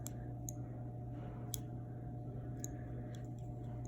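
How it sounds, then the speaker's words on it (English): Several small sharp clicks of a push button on a DC motor control circuit, spaced irregularly over a faint steady hum. "And then when I click the button"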